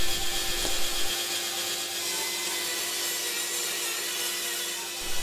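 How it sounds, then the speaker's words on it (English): A bandsaw with its table tilted to 30 degrees slices through wood for a French cleat, a steady, fairly loud whirring hiss that holds through the whole cut without a break. "I tilt my bandsaw table to 30 degrees to make the cut."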